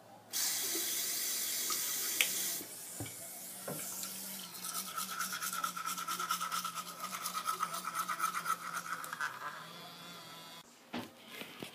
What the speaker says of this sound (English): so I'm going to be brushing my teeth